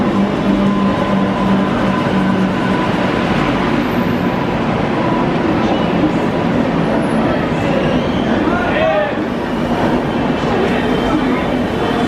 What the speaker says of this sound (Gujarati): 9:24 ટ્રેન આવી.